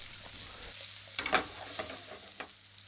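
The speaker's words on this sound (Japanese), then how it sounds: "バターが全体になじむようによく混ぜてやります" Grapes fry in butter alongside black pudding while being stirred, making a soft, quiet sizzle broken by a few louder scraping stirs near the middle.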